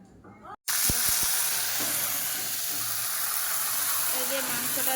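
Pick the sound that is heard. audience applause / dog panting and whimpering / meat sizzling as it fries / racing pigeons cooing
meat sizzling as it fries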